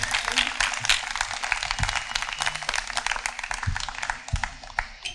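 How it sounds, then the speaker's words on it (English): Applause for the sound crew at an evening fiddle concert of a bluegrass festival, a moderate, steady spread of clapping with a few low thumps underneath. "can we get a quick round of applause for our sound crew"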